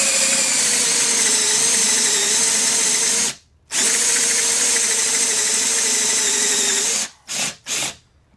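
A power drill bores into the underside of a cedar wood blank, a loud steady whine running about three seconds, a brief stop, then another long run ending in a few short bursts.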